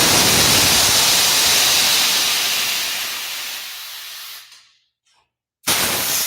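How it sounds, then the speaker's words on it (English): An air compressor vents with a loud, steady hiss that fades off, stops for about a second, then bursts back on abruptly at full strength. "on the compressor, there's a vent,"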